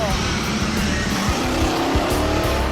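A 1990s car engine running on moonshine alcohol, idling roughly and sputtering with uneven low throbbing pulses and occasional knocks, loud and close, with a steady broadband hiss over it.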